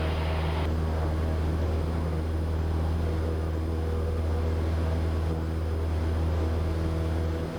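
A Cessna 172 Skyhawk's piston engine drones steadily at full takeoff power through rotation, a loud, constant hum with no talk over it.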